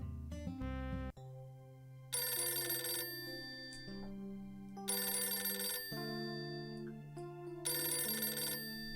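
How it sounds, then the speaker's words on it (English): In the video game Golf Story, a telephone rings in repeated bursts of bright trilling bell tones, three rings separated by short pauses over a soft musical backing. "Answer the phone, dude."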